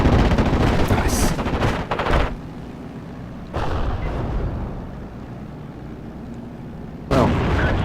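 Rolling gunfire, machine-gun bursts and explosions in the World War II strategy game Steel Division: Normandy 44. A dense barrage opens, then heavy booms return in separated waves.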